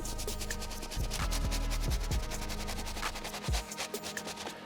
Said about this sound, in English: first brush we're gonna use is our medium bristle brush here